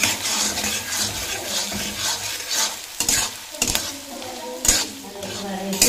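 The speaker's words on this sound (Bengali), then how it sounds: "পেঁয়াজগুলো ব্রাউন করে ভেজে নেব।" Two medium-sized onions, sliced, fry and sizzle in a pan while they brown for a chicken curry. The hiss is steady and close, broken by scraping stirs and a few clatters against the pan.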